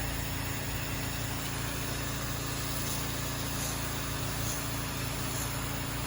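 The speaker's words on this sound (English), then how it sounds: "And I can hear that downstream injector drawing from here." Roof-cleaning pressure washer running with its downstream chemical injector drawing, heard as a steady, dense engine and pump drone with a constant high hiss, unchanging and continuous, no voices.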